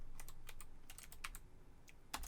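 Rapid, close typing on a computer keyboard, a quick irregular run of crisp key clicks ending with a firmer keystroke.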